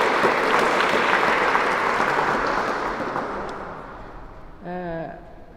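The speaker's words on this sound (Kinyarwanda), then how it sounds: "Mu ntiza amashyi rero mbashimire abari aha ngaha mwese." Applause from the audience at a parish graduation ceremony in Gikondo rises as a dense, sustained clatter of many hands, slowly fading away, before a brief burst of a voice at the end.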